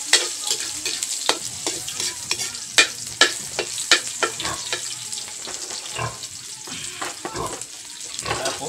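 Garlic and onion sizzle in a pan while a utensil stirs them. Steady frying hiss runs under a rapid, irregular clatter of spoon against metal. No voices.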